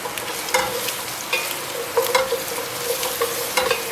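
Onions frying in a pan until translucent, a steady close sizzle broken by regular scraping stirs of a utensil every half second or so.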